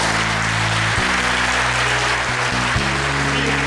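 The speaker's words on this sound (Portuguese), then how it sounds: "Você pode dar uma salva de palmas?" Applause from a prayer group gathering at a Catholic church event, steady broadband clapping with a low droning hum of music or an organ underneath throughout.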